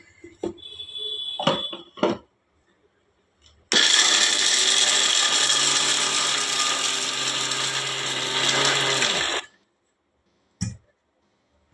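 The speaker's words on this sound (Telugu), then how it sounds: "వీటిని మిక్సీ పట్టుకోవాలి" A mixer grinder whirs loudly and steadily for about six seconds as it grinds roasted peanuts, cumin and fenugreek for gongura chutney, with a few small clicks and knocks before it starts and one brief knock after it stops.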